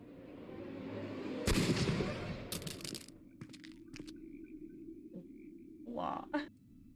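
A single gunshot fired by Watson in Sherlock Holmes: Crimes and Punishments rings out sharp and loud against a low ambient bed, followed by a second crack and scattered clicks and thuds.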